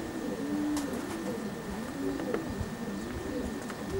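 Racing pigeons cooing steadily in a natural and stock loft, several soft overlapping coos repeating close by over a low hum of background noise.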